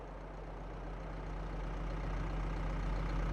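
A tractor engine left running in a field in Farming Simulator 22, giving a steady low idling drone with a constant hum that builds slightly louder over a few seconds, with no voices.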